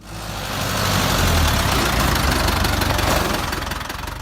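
A Ford 5000 tractor's diesel engine runs steadily at close range, a loud, continuous rumbling idle with a faint knocking texture, with no speech.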